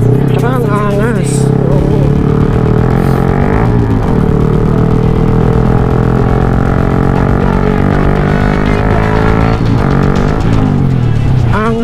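A Yamaha MT-15 motorcycle engine runs loudly and steadily close by, with a few throttle blips rising and falling over a continuous droning exhaust, while someone talks over it.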